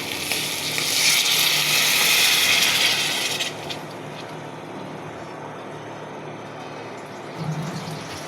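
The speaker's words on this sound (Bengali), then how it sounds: "পানি দিচ্ছি।" Water poured into a hot pan of hilsa fish curry seasoned with salt and chili powder, a loud burst of sizzling hiss for about three seconds that then settles into a quieter, steady frying crackle.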